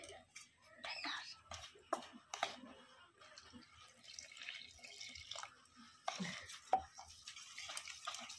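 Cake batter mixed with milk in a steel bowl, soft wet stirring and scraping strokes coming in irregular bursts, close and quiet, with faint speech now and then.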